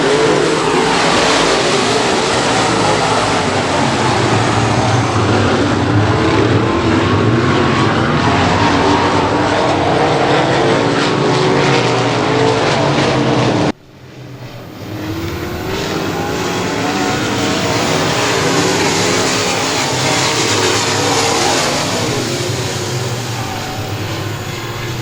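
Pro Mod race cars roaring around Boothill Speedway, a loud sustained engine drone from the passing field, cut by a sudden drop and quick swell as cars sweep by, with no voices over it.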